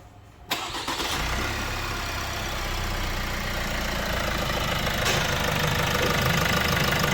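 An Opel Mokka 1.6 engine cranks and catches, then idles steadily and fairly loud with a rough, knocking rumble, no voices over it.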